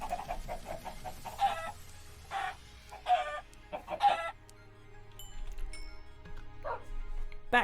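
Chickens in a block-building video game cluck in short bursts, several quick clucks then spaced squawks, clear and moderately loud with game sounds between.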